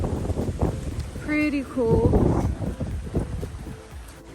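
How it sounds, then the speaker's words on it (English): Wind blows across open water by a water-taxi route in Laughlin, Nevada, making a steady rushing roar and microphone buffeting beneath a person's brief spoken comment. "I hate wind. It's actually really nice aside from the wind."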